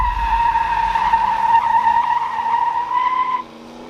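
A red 1979 Dodge Li'l Red Express truck lays down a burnout, its tires giving a loud, sustained, close squeal over engine roar that cuts off sharply near the end.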